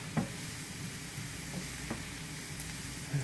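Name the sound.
onions and garlic sautéing in a pan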